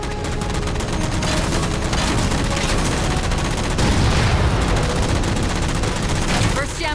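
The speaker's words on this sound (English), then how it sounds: "Shoot them down." Sustained gunfire in a Halo video game as jammers are shot down, dense rapid bursts of automatic weapon fire with booms, loud and continuous, a voice briefly heard in the game mix.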